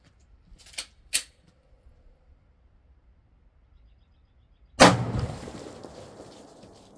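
A .45 ACP Federal HST round is fired into water jugs: two small clicks, a few seconds of near silence, then one loud, sharp report with a quickly decaying tail.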